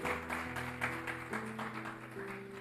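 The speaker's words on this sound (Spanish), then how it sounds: "¿Cuántos pueden dar un fuerte aplauso a esa palabra fiel y digna?" Church congregation applauding, a dense, steady wash of clapping from many hands throughout, with sustained music tones underneath.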